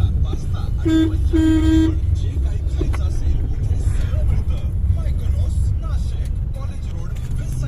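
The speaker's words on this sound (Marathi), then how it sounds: "ट्रॅफिक बघ, इथपर्यंत ट्रॅफिक आहे।" Busy Indian city road traffic rumbles continuously while a car horn honks twice in quick succession near the start, with voices nearby.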